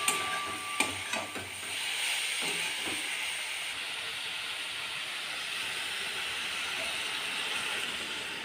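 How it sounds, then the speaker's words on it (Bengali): Water goes into a hot pot of vegetable soup with potato, broccoli, cucumber and carrot: a few clinks, then a steady, fairly loud hiss and sizzle of steam that holds on without voices. "বেশ অনেকটা এর মধ্যে আমি জল দিয়ে দিলাম"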